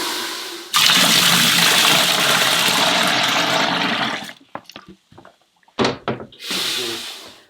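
A bucket of hot water poured into a Miele W1 Excellence washing machine, a loud sustained gush lasting several seconds, followed by a few scattered knocks and a final short splash.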